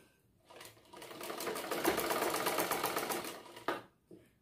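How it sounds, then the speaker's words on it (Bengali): A sewing machine runs in one continuous burst of rapid stitching for about three seconds, joining the side seams of a bra-cut blouse along a marked line, then stops with a clunk and a brief knock. "এই দাগের উপর দিয়ে দিয়ে আমি সেলাই করে দেব। দুটোটা সাইড আমি সেলাই করে জয়েন করে দেব।"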